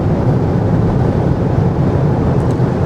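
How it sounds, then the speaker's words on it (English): A 2025 BMW X6 LCI accelerates at full throttle on the Autobahn, heard from inside as a steady, loud, dense roar of engine, tyre and wind noise with no pause and no talking. "Let's give it full throttle here again."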